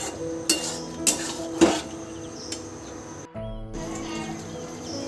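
Paneer, capsicum and potato stir-frying with spices in a pan, with several sharp clinks of a spatula against the pan over a steady close sizzle and a brief pause partway through.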